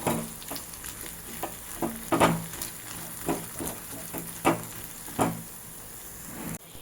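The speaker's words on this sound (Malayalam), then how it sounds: "നല്ലപോലെ ഇളക്കി കൊടുക്കണേ" Tapioca pearls being stirred in a pan as they cook, with a spoon scraping the bottom in irregular strokes over a soft steady sizzle, close and moderately loud, with no talking.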